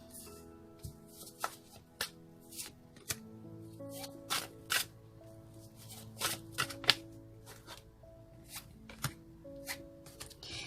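Tarot cards being shuffled in a run of crisp, irregular riffles and snaps, close and fairly quiet, with no talking.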